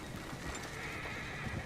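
A horse whinnies while hooves clop softly in the video game Red Dead Redemption 2, a faint, brief moment set against a low, steady ambient background.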